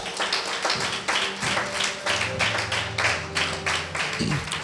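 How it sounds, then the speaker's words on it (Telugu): A church audience at a testimony service claps loudly, with a dense, sustained patter of many hands over several seconds and faint tones underneath. "గట్టిగా చప్పట్లు కొడదామా?"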